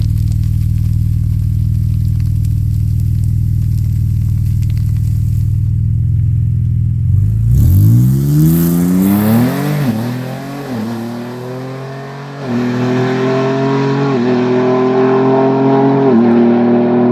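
A stock-turbo 3.0L Ford Explorer launches down a drag strip, its loud engine first droning at a low idle, then roaring up through rising revs and gear shifts as it pulls hard and fades slightly into the distance.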